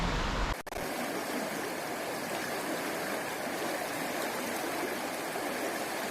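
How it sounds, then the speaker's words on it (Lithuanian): A small stream runs through the stone village of Castleton at night, a steady, close broadband rushing and gurgling that holds evenly throughout after a brief initial cut, with no talking. "čia upelis teka."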